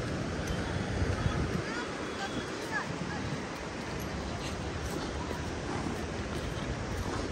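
Fast, high-pressure water on the Ganges River at a rafting launch spot rushes steadily in a loud, continuous broadband wash, with wind buffeting the microphone throughout.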